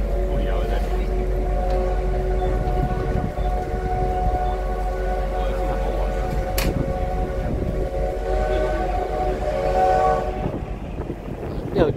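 A CT273 steam locomotive hauling blue passenger cars and a black power car on the Huadong line runs close by with a loud, sustained rumble, a long tonal whistle-like blare that holds for several seconds, and background crowd noise.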